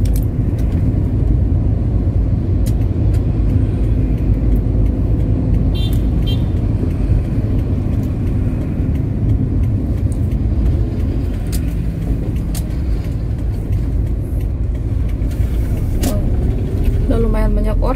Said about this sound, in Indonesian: Sekarang mobil udah banyak banget.